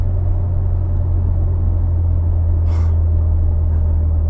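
A tuned Mitsubishi Evo X accelerates hard up a hill, giving a loud, steady low engine drone and rumble that holds the whole way, with one brief gasp partway through.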